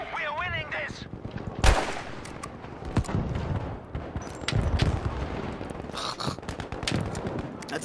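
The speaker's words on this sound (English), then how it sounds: "Let's fire this shotgun with pistol damage." Gunfire from a shotgun in Battlefield V, a sharp loud blast standing out early, followed by scattered shots and combat noise, with a voice talking over parts of it.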